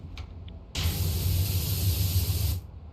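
Pressure washer spraying in the PowerWash Simulator video game on PS5, a loud, steady, broad hiss that starts abruptly, runs for about two seconds and cuts off.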